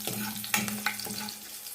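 Crushed garlic and cumin fry in a pan for a fenugreek-leaf dal tempering, a brief, close sizzle with a few sharp crackles and spits.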